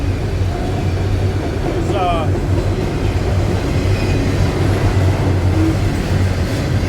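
A loaded westbound freight train rolls past in Lapeer with a loud, close, continuous rumble of cars and wheels, broken by brief metallic wheel squeals.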